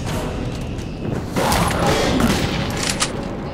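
A burst of gunfire in the video game Metro 2033 starts partway in and runs as a loud, continuous barrage, with a sharper crack toward the end.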